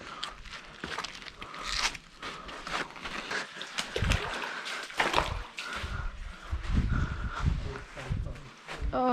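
Feet slosh and splash through shallow water inside Tunnel Creek cave, uneven wading steps and squelches near the microphone, with people talking throughout.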